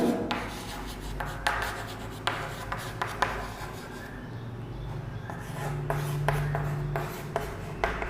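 A teacher writes a perimeter formula on a board during a maths lesson, giving repeated scratchy strokes and taps in short bursts, close and fairly clear, with a low steady hum underneath.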